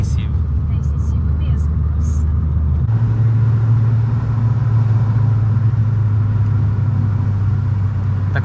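A Honda Civic Si drives along with steady low engine and road rumble close inside the cabin, the tone shifting slightly partway through.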